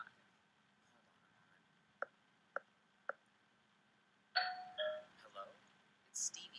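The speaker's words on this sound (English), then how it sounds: "I just love how modern the doorbell is." Doorbell in the video game The Boogie Man, a few sharp ding tones followed by a brighter chime sequence, faint against a quiet room.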